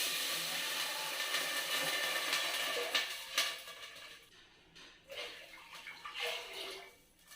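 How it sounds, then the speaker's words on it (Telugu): Water pours steadily into a hot, smoking nonstick pan being seasoned, with a rushing, splashy hiss, then breaks into a few shorter gushes and splashes; no voices. "ఇలా సగానికి వాటర్ యాడ్ చేసుకొని ఇప్పుడు వాటర్ని బాయిల్ అవ్వనివ్వాలి"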